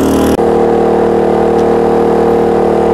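A petrol power generator runs under a noise test, recorded from the exhaust side about five metres away, a loud, steady droning engine hum with a brief dip near the start and no talking.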